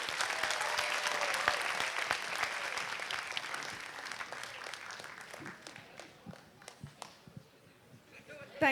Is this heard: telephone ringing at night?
no